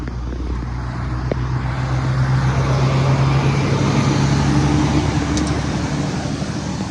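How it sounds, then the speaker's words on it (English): A truck passes along a truck route on a quiet night, a steady broad rumble with a low engine drone holding at the same loudness throughout, with no voices. "Yep, here comes the truck."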